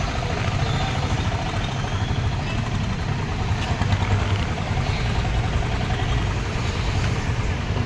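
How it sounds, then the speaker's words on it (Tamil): Jammed road traffic in Angamaly, Kerala, with a dense, continuous rumble of idling and slowly moving cars, motorcycles and trucks heard close by and steady throughout, after rain. "நாலா பக்கம் ஜாமாய் கிடக்குது டிராஃபிக்கு."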